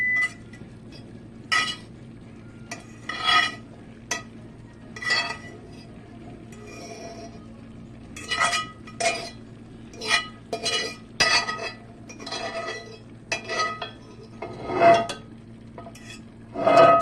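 Vegetables being tossed and stirred in a pot of homemade meat-medley chili, with repeated close clinks and scrapes of a utensil against the pot in irregular bursts, no voices.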